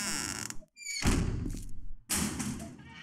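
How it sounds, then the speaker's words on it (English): A video-game cop zombie thuds about, heavy muffled thumps and knocks with squeaky scraping in between, loud and close. "That cop zombie must be out there again, thudding around, making all kinds of racket."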